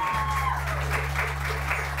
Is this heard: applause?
yes